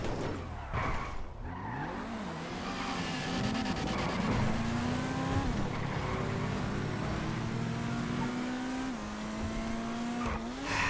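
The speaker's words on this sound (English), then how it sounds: "I knew he was in a drift car" A drift car in GTA FiveM revs hard with rising and falling engine tones while its tires squeal and skid through long slides, loud and continuous throughout.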